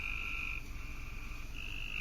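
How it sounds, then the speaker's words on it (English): Frogs croak loudly and continuously in a steady chorus, a dense rasping call held at a fairly constant level throughout with no talk over it. "I never heard quote unquote frogs sound like that before."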